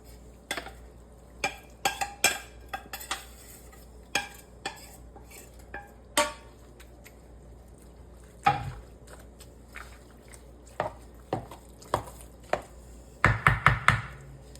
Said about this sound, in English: And now we're gonna combine with the meat.